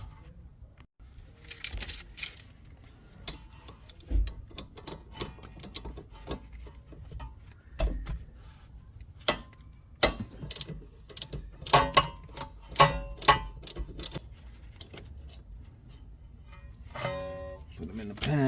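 A wrench works loose the rear brake caliper bolt on a Honda Civic Si, making scattered sharp metallic clicks and ratcheting bursts, quiet between them and denser toward the end.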